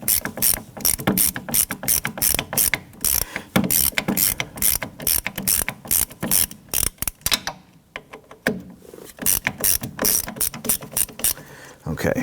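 Ratchet wrench clicking rapidly in repeated bursts while loosening rear brake bolts on a 2017-2020 Hyundai Elantra during wheel cylinder work, with a brief pause mid-way before the ratcheting resumes close and loud.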